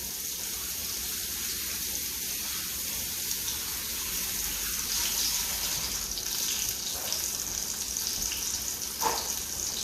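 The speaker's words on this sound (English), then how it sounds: "wash my hands again" Steady running tap water splashes over hands at a kitchen sink, a constant close hiss that lasts throughout with no voices.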